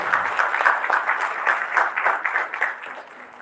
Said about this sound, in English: Can we have a huge round of applause for Mohan Kumar Arya?